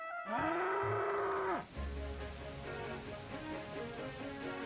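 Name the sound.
bull mooing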